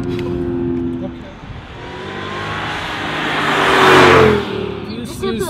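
A 2005 Mercedes CLS 55 AMG's 5.5-liter supercharged V8 revs up, its roar climbing in pitch to a loud peak before dropping away, with a voice exclaiming over it.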